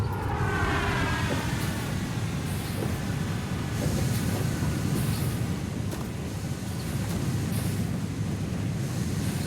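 Steady broadband rumble of a train in the factory-building video game Satisfactory, continuous and fairly loud throughout with a washing, surf-like texture and no talking.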